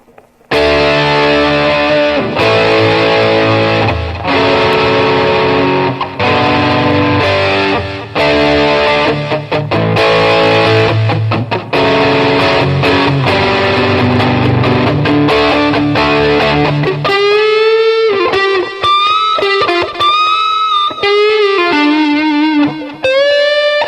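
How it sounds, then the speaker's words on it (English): A Frank Stallone Tigris electric guitar through a Zapped tube-driven distortion pedal plays loud, crunchy, heavily distorted chords in bursts, then shifts to sustained bending lead notes, with no voices. "I'll add some really heavy distortion on through the Zapped tube-driven pedal"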